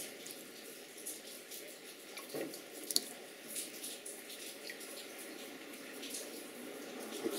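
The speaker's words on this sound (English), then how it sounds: "watch what happens when you put a bit of water on" Water poured onto a clay-sculpted panel gives a steady trickling, faucet-like wash that runs the whole time, with a few faint drips and splashes and no talk.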